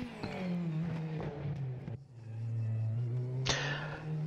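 A race car engine drones and revs in the game RaceRoom Racing Experience, pitch rising and dropping with a brief cut and a sharp burst of acceleration.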